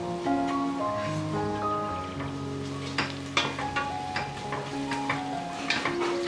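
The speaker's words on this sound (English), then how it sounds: "I'll add this oil butter mix into the other pot" Oil and butter mixture poured into a hot cooking pot while making chicken mandi, giving a steady, fairly close sizzle and crackle under continuous background music.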